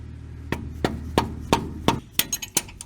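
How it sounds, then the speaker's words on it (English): Sharp metallic hammer strikes drive a punch into a part on a 1994 Ford Ranger, about eight evenly spaced taps, close and distinct, the last few quicker, with no talking over a low background hum. "I'm gonna use this punch, and then you just tap her on in"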